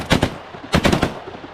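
Shotgun blasts ring out while duck hunting: a quick pair of shots, a pause, then a denser burst of several rapid shots, loud and sharp, with no talk in between.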